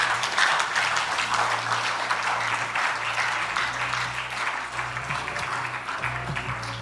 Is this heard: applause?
yes